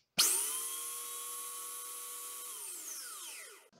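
A belt sander with its belt tracking off starts abruptly and runs with a steady whining hum for a few seconds, then winds down, close and alone.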